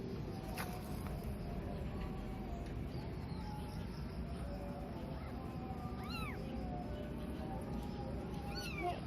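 A kitten found in a cemetery gives a few thin, high meows, faint and spaced apart over steady outdoor background noise, with little else going on.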